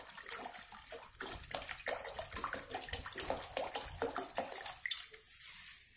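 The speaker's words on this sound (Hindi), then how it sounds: "चार कटोरी के हिसाब से हम इसमें पानी डाल रहे हैं।" Water poured into a kadai for cooking dal, an uneven splashing gush with bursts and gurgles, close and fairly quiet, tapering off near the end.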